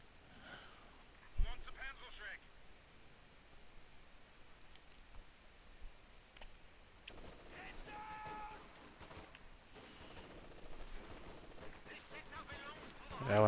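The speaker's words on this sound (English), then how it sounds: "LMG shredding that squad out front there" Distant, quiet light machine gun bursts and scattered rifle shots crackle through a video game battle, rising in clusters with a sharp single report early on.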